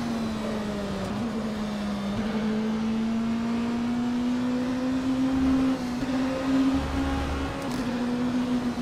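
Race car engine in the rFactor 2 video game from an in-car perspective, a steady droning engine note that climbs slowly in pitch as the car holds speed, with a couple of brief low thumps along the way.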